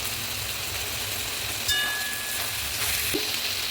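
Masala of tomatoes and green chillies frying in a pan, a steady close sizzle with a faint metallic scrape near the middle and a soft clink near the end.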